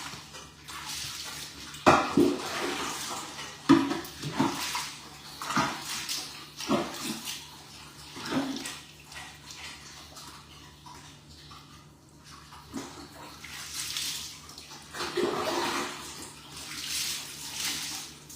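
A dog is bathed under running water, with a steady faint stream of splashing and pouring punctuated by louder splashes and sloshes, close by in a reverberant space, with brief bits of speech.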